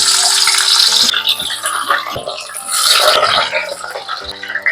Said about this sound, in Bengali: তেল গরম হয়ে গেছে তেলে আরেকবার ভেজে নেব